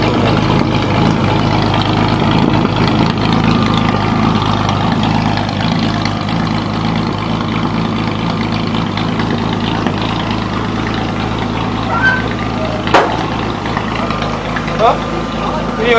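A 1953 Chevrolet 3100 truck, just started after on-site repair work, idles with a steady low rumble throughout, with a person speaking briefly over the engine.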